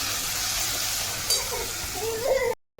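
Cumin, mustard seeds and turmeric sizzle in hot oil with a steady close hiss, a brief crackle flaring midway, then the sound cuts off abruptly.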